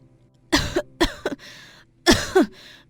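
Several sharp coughs in separate bursts, close and fairly loud, with a throat-clearing rasp between them and quiet pauses.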